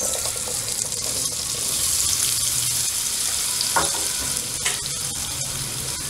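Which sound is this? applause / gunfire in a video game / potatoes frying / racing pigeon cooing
potatoes frying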